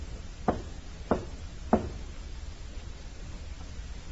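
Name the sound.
knocking on a side door, radio drama effect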